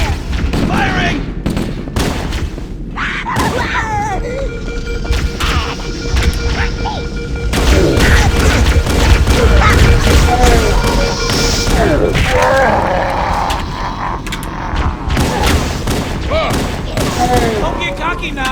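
Gunfire and explosions fill a Halo: Combat Evolved firefight against Covenant forces, with rapid bursts, heavy booms and thuds running continuously throughout, louder in the middle stretch, while voices shout over the battle.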